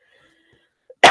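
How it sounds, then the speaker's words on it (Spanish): A single sharp cough bursts out near the end after near silence, close and fairly loud, preceded by a faint throat sound. "tengo perenne un poco de tos"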